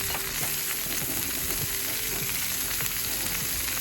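Onions and asparagus frying in olive oil on a plow disc cooker outdoors, a loud continuous dense sizzle with faint stirring clinks, close up and without talking.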